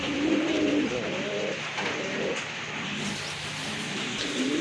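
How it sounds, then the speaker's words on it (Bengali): Beauty Homer pigeons at a bird sale coo nearby in low, rolling, repeated calls over a constant background hum. "আরেক জোড়া কবুতর বিউটি হোমা কবুতর"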